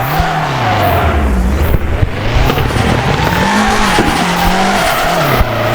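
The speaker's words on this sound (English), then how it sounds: "let me show you if I try it with the handbrake" A car drifts with the handbrake in the FR Legends racing game, its tires squealing continuously over a loud, steady engine drone that rises and dips through the slide, with no talking.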